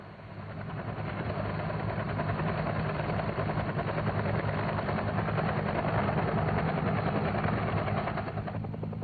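A UH-1 helicopter flies on steadily, its rotor chop and turbine drone holding loud and constant throughout, with a low engine rumble underneath and no voices.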